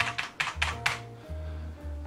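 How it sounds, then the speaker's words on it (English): A SteelSeries G10 mechanical keyboard clacks through several quick, sharp keypresses in a close, uneven burst, with a low steady hum running underneath. "It's my keyboard. It is a SteelSeries G10. I believe it's mechanical, because listen to this."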